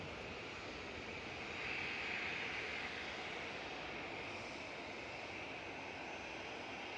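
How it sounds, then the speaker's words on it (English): Ryanair airliner at Manchester Airport, a faint distant engine rumble holding steady throughout and swelling slightly around the middle, with no voices. "Next on, I think it's going to be the Ryanair in front of us."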